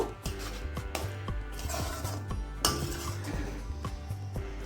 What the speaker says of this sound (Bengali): এবার সমস্ত উপকরণটা একটু ভালো করে মিশিয়ে নেব